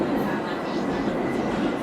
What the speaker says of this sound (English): I have got this texture which I recorded when I was on the tube the other day in London.